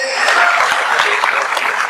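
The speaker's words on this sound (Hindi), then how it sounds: "कृपया एक बार आप लोगों की एक साथ जोरदार ताली होनी चाहिए सर" An audience at a seminar claps loudly and steadily, a dense burst of applause for a couple of seconds.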